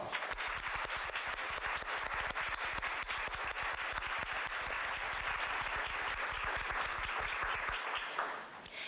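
Audience at a youth leadership council ceremony breaks into sustained applause, dense steady clapping that carries on evenly before tapering off near the end.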